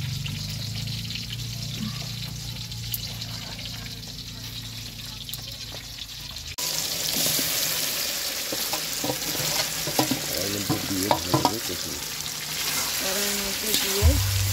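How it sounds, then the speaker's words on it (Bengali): Chicken coated in a paste of onion, garlic, chilli, black pepper, tomato and sour yogurt frying in a kadai. A quieter hiss gives way to a loud, steady sizzle, with scattered stirring clinks near the end. "পেঁয়াজ, রসুন, লঙ্কা, গোলমরিচ, টমেটো, টক দই সব একসঙ্গে মশলা করে মাংসে মাখিয়ে কড়াইয়ের মধ্যে দিচ্ছি।"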